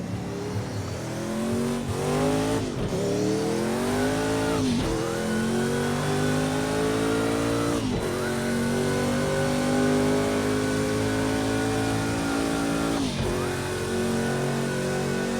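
A Ferrari engine revs and climbs through repeated gear shifts in a racing game, rising harmonic whine dropping at each shift, loud and continuous, with no talking.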